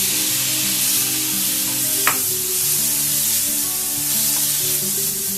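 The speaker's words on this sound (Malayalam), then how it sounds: "ടൊമാറ്റോ 2-3 മിനിറ്റ് മീഡിയം ഫ്ലെയിമിൽ തന്നെ വഴറ്റിയുള്ളൂ" Chopped tomato sautéing over medium flame in a pan with chili powder, a dense continuous sizzle close by with a single brief scrape partway through.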